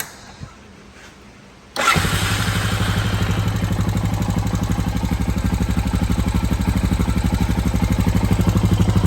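A Honda Foreman ATV with a new OEM-style muffler is hot-started: after a quiet moment and a small click, the engine catches abruptly and settles into a loud, close, steady idle with a rapid chugging pulse.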